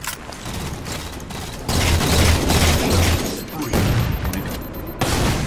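Assault rifle fire in the video game Halo 4, loud sustained bursts of automatic shots rattling close by, broken by brief pauses and mechanical clicks of the weapon.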